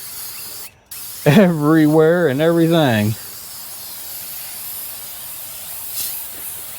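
An O'Reilly spray can sprays over the engine bay of an abandoned 1968 Ford XL, with the carburetor covered, in one sustained burst lasting about two seconds, close and loud, with a tonal whistling edge. A person talks nearby.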